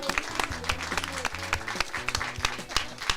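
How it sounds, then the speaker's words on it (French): Scattered clapping from a studio audience greeting a guest on a French radio show, irregular and fairly light beneath a loud musical jingle with steady beats. "Je vous demande d'applaudir Younes Hanifi."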